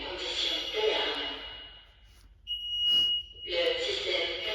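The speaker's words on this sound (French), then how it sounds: "Il s'est produit une condition d'alarme." A steady high electronic alarm tone from a home alarm system signalling an alarm condition sounds for about a second between bursts of nearby talking, loud and piercing.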